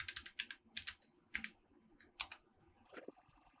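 Quiet, close clicks of a computer keyboard as a password is entered, short irregular bursts of keystrokes with brief pauses between them and no talking.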